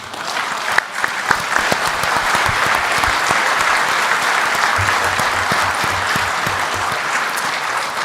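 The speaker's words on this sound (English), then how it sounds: "And I would like for us to give them a round of applause." Sustained applause from a large audience at a church council session honouring conference presidents, steady dense clapping filling the hall throughout.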